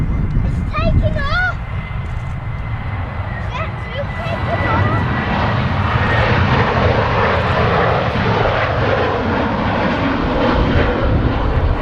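Jet2 airliner on the runway at Manchester Airport: a loud, steady engine roar that builds and holds, with birdsong at first and a voice talking underneath.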